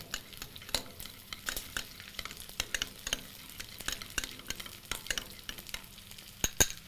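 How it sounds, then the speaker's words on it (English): A spoon stirs a chili sauce mixture of chili paste and tomato ketchup in a bowl, giving a series of quiet, irregular clinks and scrapes with no talking. "I am going to mix all this together"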